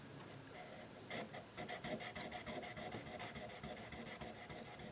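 Folded 1200 grit sandpaper is rubbed over the frets of a relatively new Guild Surfliner guitar, giving soft, faint, rhythmic rasping strokes that repeat close by.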